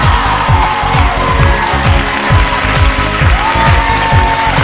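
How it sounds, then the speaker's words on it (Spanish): Loud studio audience applause and cheering on a Latin beauty pageant TV show, a continuous dense roar of clapping and crowd noise. "¡Fuerte el aplauso para Francisca!"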